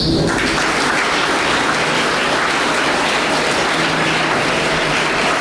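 Audience applause at a school oath taking ceremony and student council inauguration, loud, dense clapping from a large crowd that holds steady throughout.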